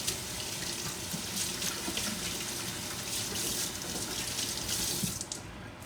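Tap water runs steadily into a kitchen sink while something is rinsed under it, a continuous close splashing hiss that stops abruptly near the end.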